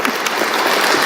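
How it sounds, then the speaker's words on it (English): An audience at a conference on autonomy movements in Europe applauds, a dense, loud and even clatter of clapping hands that fills the whole brief moment. "Big hand of applause."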